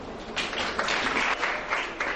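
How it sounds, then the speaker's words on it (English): A school audience gives a steady round of applause for a judge at a televised schools debate programme in Port Harcourt, Rivers State, with dense, even clapping filling the room at moderate loudness. "A round of applause for him."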